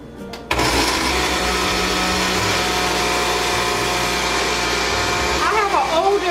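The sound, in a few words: older blender mixing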